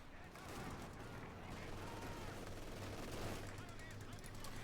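Sustained machine gun fire from a Company of Heroes 2 battle between Wehrmacht and US forces, dense rattling bursts running steadily throughout with a low engine drone beneath and faint talk over it.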